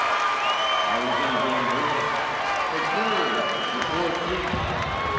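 A home crowd roars and applauds at a 2024 North Carolina 3A girls' high school basketball state championship after a three-pointer, a dense, steady wall of cheering and clapping that fills the arena, with voices calling out through it.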